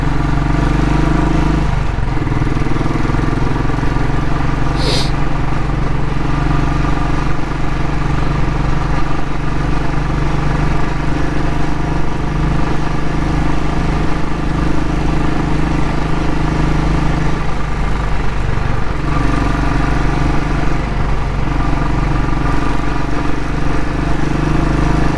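Royal Enfield Classic 500 motorcycle riding on a wintry road, a steady single-cylinder engine drone running throughout with slight shifts in pitch as the rider changes gear, close and continuous.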